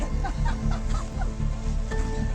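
A dense chorus of honking, cackling geese calling in Sweden, overlapping and continuous, fairly loud with a low steady hum underneath.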